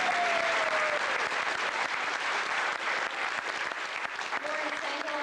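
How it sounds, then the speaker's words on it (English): An audience claps steadily in a dense, sustained round of applause at a community event, continuous and moderately loud for several seconds. "Give him a round of applause."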